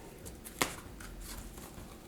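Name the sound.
tarot cards being shuffled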